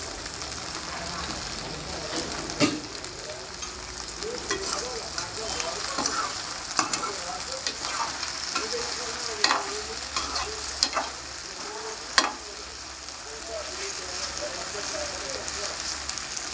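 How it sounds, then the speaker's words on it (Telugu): Curry leaves frying with okra in a hot pan give a steady close sizzle and crackle, with occasional sharp pops and a spoon stirring throughout; no one speaks. "కొద్దిగా కరివేపాకు వేసుకుందాం."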